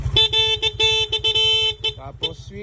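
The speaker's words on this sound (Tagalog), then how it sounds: "so stock horn." A stock horn on a Honda Click V2 scooter honks in a quick series of loud, buzzy toots, several short blasts followed by a couple of brief bursts, close up and alone.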